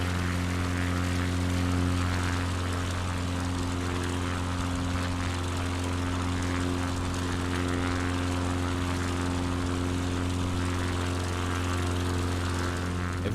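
Propeller airplane engine in Microsoft Flight Simulator, a steady droning hum with strong low tonal harmonics, loud and unbroken throughout, heard from the cockpit on a sightseeing flight over Mexico.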